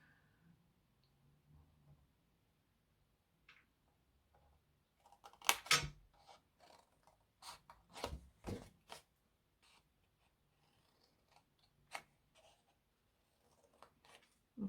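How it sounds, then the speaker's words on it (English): Scissors snip through card stock in a quiet room, a few sharp close cuts clustered in short bursts with quiet gaps between them. "But at the moment I'm just snipping, so just finish this snipping"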